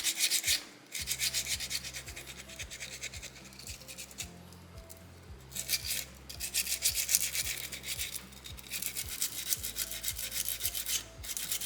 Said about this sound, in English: And I will use this first sandpaper, this coarse mesh, until it's falling apart.